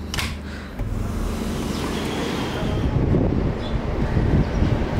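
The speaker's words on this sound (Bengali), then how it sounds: "আজকে সকাল সকাল অনেক বাতাস" Strong morning wind blows at Cox's Bazar sea beach, a loud steady roar buffeting the microphone with broadband rushing noise that swells slightly toward the end, no talking.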